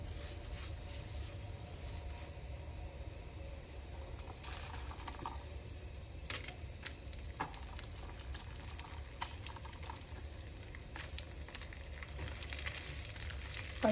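Dried red chilies fry in oil in a pan for a roasted cucumber-tomato chutney. A faint, steady sizzle continues throughout, with occasional small pops and crackles.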